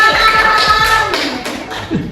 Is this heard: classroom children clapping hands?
yes